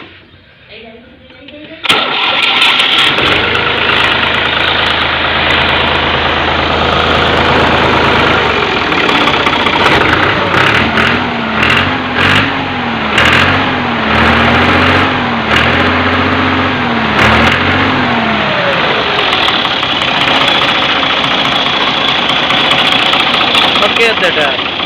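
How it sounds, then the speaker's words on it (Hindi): A New Holland Ghazi tractor engine self-starts, cranking and catching, then settles into a loud, steady diesel idle with rhythmic knocking, running continuously to the end. "ट्रैक्टर की आवाज़ भी सुना देने, स्टार्ट करके। सेल्फ स्टार्ट ट्रैक्टर है।"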